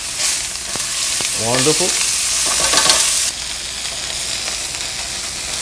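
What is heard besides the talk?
chicken searing and sizzling in a pan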